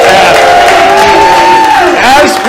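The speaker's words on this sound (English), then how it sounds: "As we got the round of applause" Audience at a Star Wars-themed bar cheers and whoops for the staff. The crowd noise is loud and sustained, with shouts and a voice rising above it.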